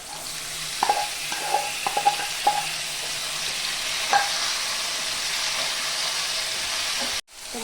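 Chicken pieces frying in a pan for chicken kosha with tomato and spices, a steady sizzle under sharp clattering stirs of a spoon against the pan, several close scrapes early on, then constant frying until an abrupt cut near the end.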